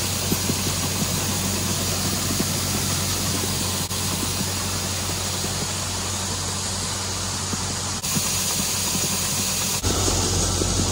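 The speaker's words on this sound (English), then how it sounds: "To unload a wagon, all you need to do is drop that, turn the auger on, and then open that up." A grain auger unloads corn from a wagon into a bin, a loud, continuous mechanical drone with a hissing rush of grain and a few faint clunks, with no talk.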